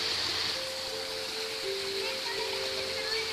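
A waterfall with a plant growing on its side. A steady broadband rush of falling water runs throughout, with faint tonal hums layered beneath it.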